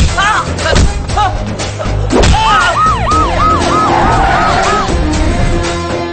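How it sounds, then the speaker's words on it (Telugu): Police sirens wail through a city street scene in a Telugu action film, rising-and-falling tones repeating loudly after a burst of thumping noise, with overlapping vehicle sounds and voices. "నెక్స్ట్ 60 మినిట్స్ సిటీ అంతా సైరన్ తో మోతం మోగిపోద్ది."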